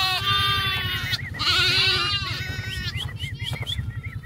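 Several sheep on a ranch bleat in quick succession, loud and close, their wavering cries overlapping above a steady low rumble.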